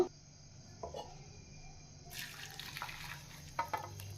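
Cooked ganike (kashi) greens are strained, their cooking water trickling and splashing softly into a vessel, faint and close, starting partway through a quiet stretch.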